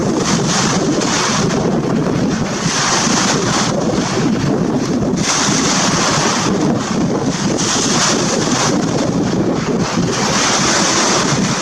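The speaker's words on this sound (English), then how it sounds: "it's very windy right now, so I don't even know if you can hear me well" Strong wind at the beach roars loudly and continuously across the microphone, with surf washing underneath in gusting surges and no speech.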